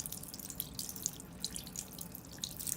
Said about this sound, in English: And I hear the water running.